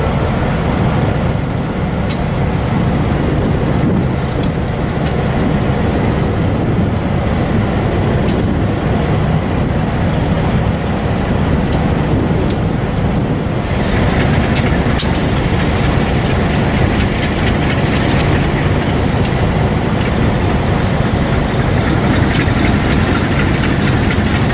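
Steady, loud rumble of four heavy Conrail freight locomotives droning close by on the Meridian Southern Railway, with a continuous mechanical roar and faint high squeals throughout.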